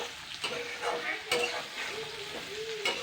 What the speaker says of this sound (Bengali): ধুয়ে কেটে রাখা বেগুন দিচ্ছি